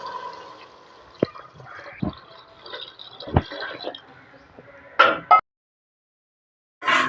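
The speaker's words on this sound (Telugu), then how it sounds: "2 లోటాలు వాటర్ పోసుకుందాం" Water is poured from a small vessel into a pot of rice for a broad bean and egg pulao, with brief splashing gushes and scattered clinks, followed by a pause and a second short pour.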